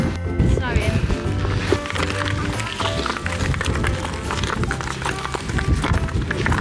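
Running footsteps in spiky crampons crunching steadily over glacier ice near the Katla volcano ice caves in Iceland, a continuous rhythmic scraping close by, with people talking over it.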